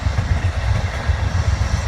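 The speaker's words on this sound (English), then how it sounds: "It's the 4th train we've seen. That's an Amtrak." An Amtrak passenger train rumbles past, giving a steady, loud low roar with faint rhythmic rail clatter throughout.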